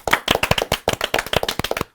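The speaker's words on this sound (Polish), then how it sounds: "brawa!" A small group in a television studio claps for the cast and director of a series. The hand claps are sharp and distinct, come in a quick uneven run over two seconds, and end abruptly.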